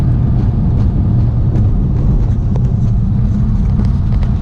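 An Audi B5 S4 tuned with a 3-bar map sensor accelerates hard in fourth gear, a loud, dense in-cabin engine roar and road rumble running continuously with no speech.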